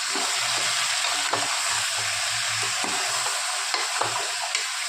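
Country chicken stirred and fried in a pan, a loud, continuous sizzle with repeated scraping strokes of a spoon throughout, no voices.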